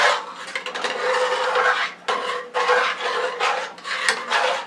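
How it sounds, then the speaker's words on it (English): A utensil scrapes hard across the bottom of a frying pan after cooking a beef pasta dish, in long, rasping strokes, close and continuous, with brief pauses between passes. "when you scrape the bottom, it's thick on the bottom of the frying pan"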